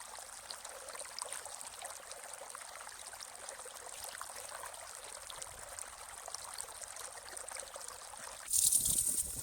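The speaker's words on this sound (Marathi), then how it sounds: "हा पाणी असं पद्धतशीर जात" Water flows steadily through a channel with a soft, continuous rushing, faint and even, then a sudden louder burst of noise near the end.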